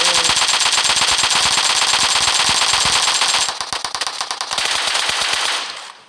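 Rapid automatic bursts from an AKM rifle in the PUBG Mobile game crack out loud and close, a dense stream of shots that thins into separate quick reports near the end, with no talk.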